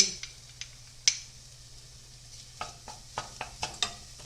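Garlic and ginger hit a hot pan, giving a soft steady sizzle under a low hum, with scattered sharp ticks and clinks of stirring that grow more frequent toward the end.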